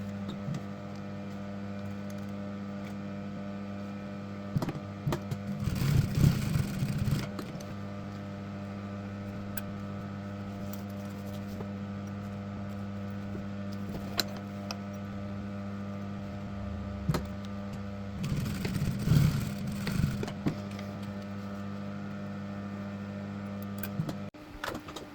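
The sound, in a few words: sewing machine stitching bag straps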